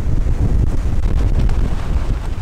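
Strong wind blows through a fir forest, a loud, steady rushing roar buffeting the microphone with no pauses and no voices.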